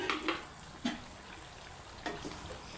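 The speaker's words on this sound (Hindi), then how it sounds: "अब आप इसमें पेस्ट जो बनाया था टमाटर और मिर्चों का वो डाल दें" Tomato and chili paste sizzles as it fries in a pan for a spicy aloo chicken curry, a steady close crackle broken by a few sharp stirring scrapes and taps, with no talking.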